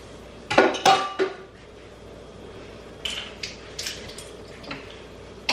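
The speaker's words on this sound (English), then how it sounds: "Let's stir my mixture real quick over here." A spoon scrapes and clinks against a pot while a mixture is stirred, a cluster of metallic knocks early, then lighter taps spaced apart, close by in a quiet kitchen.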